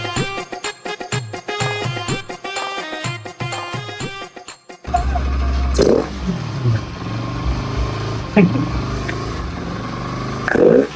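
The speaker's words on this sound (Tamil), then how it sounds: "ஸோ இப்போ வரைக்குமே த்ராட்டில் பாடி வந்து அது இன்னும் ரேஸ் ஆகிக்கிட்டு தான் இருக்குது." Bajaj NS200 motorcycle engine racing on its own from a faulty throttle body, a loud, steady mechanical roar with clattering knocks, following a few seconds of rhythmic music at the start.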